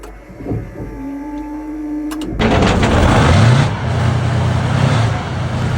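A T-72 tank engine starts: a whirring starter motor with faint clicks gives way to a loud, dense engine roar with low rumble that settles into a steady running drone, and nobody speaking.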